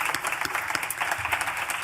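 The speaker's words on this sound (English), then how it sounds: "Let's give her a round of applause." A conference audience applauds a moderator at a policy summit, a brief burst of dense clapping from many hands at moderate volume.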